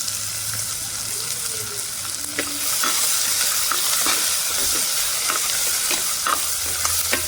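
Onions and curry leaves fry in a pan for a Spondias (hog plum) curry. Loud, close, continuous sizzling and crackling carries rhythmic scraping stirs throughout, with no talking.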